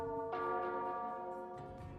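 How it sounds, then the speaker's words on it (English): A bell rings with a sustained, resonant tone that strikes, then swells again midway, ringing steadily and fairly clearly in a radio murder mystery scene on Halloween night. "Suddenly the doorbell rang again."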